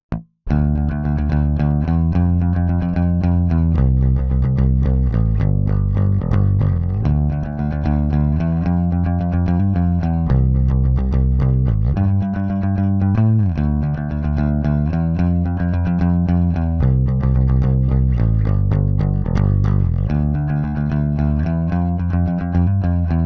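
An electric guitar, heavily processed with distortion and chorus effects, plays a song bridge as a dense, sustained, loud stream of chords and notes that slide and shift, with no talking over it.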